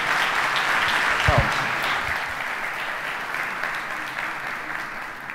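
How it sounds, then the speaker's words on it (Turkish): Audience applause at the opening of an Autodesk University conference in Istanbul after an orchestra performance; a broad, sustained wash of clapping starts fairly strong and gradually fades over several seconds. "Tekrar bir alkış rica ediyorum."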